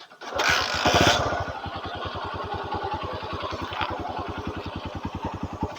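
A Honda Win motorcycle with a Mega Pro engine and a hollowed-out bass exhaust starts with a loud rev, then settles into a steady, throbbing idle with a deep exhaust pulse, close and loud.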